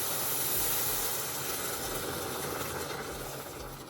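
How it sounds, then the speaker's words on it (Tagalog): Boiling water pours into a pan of sautéed oats, making a broad, steady hiss and rush like steam that stays loud throughout and slowly fades near the end, with no talking. "And then, we are going to add boiling water."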